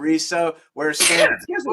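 One person sneezes once indoors at a gathering of friends. Other people talk just before and after the sneeze.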